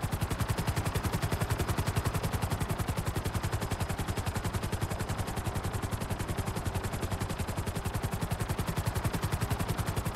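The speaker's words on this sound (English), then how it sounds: "These guns sound bigger than the Buzzards." Weaponized Conada helicopter guns firing in the video game GTA 5, a fast, steady, evenly spaced stream of heavy shots sustained throughout and loud and close.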